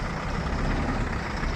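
A tractor engine idles in a steady, rough low rumble, loud and close with no talking.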